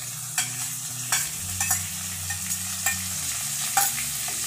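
Grated onion paste fries in a pan for prawn kalia, a steady close sizzle broken by several sharp scrapes and taps as a spoon stirs it, with no talking.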